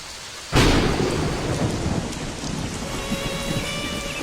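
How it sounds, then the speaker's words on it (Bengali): A sudden loud thunderclap breaks in, then heavy rain pours steadily with rumbling thunder in a cartoon storm scene. "বৃষ্টির ভাব দেখেছো? মনে তো হয় না যে এত সহজে থামবে।"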